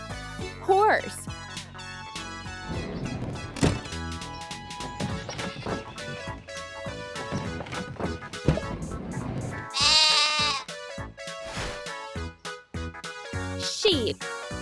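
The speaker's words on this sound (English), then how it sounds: "Sheep." Sheep bleat repeatedly in wavering, nasal calls, close and fairly loud, mixed with other busy sounds and voices that speak in the background.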